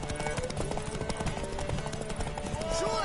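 Horse hooves clip-clop in a fast, steady rhythm in The Witcher 3, mixed with game ambience and shouted voices.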